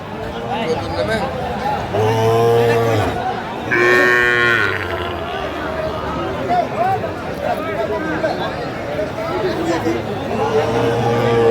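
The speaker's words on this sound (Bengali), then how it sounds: "শাহিওয়ালের সার আমরা দেখছিলাম" A Sahiwal bull calf at a busy cattle market gives a few loud, drawn-out moos, with other cattle lowing nearby and a steady crowd chatter underneath throughout.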